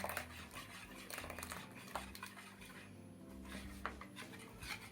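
Light clinking and scraping of a utensil against a dish as gelatin is stirred into sour cream with milk, a steady stirring motion with occasional sharper taps, close by, with no talking.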